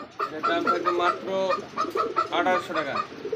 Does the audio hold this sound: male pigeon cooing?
yes